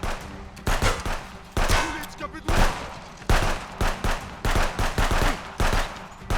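Bursts of rapid gunfire in the game Contraband Police crackle loudly in repeated volleys, with short pauses between them, like a fast-paced shooter firefight.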